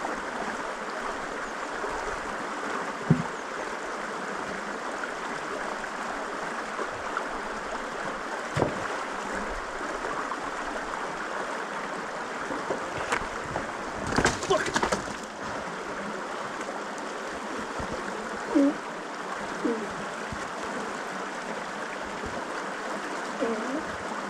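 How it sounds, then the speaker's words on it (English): A small stream flows and gurgles steadily in the outdoors. Midway a person falls into the water, causing a brief, sharp splash and a jumble of disturbed water. Scattered voices and birdsong are faintly heard. "I will show you this clip of me falling in the stream"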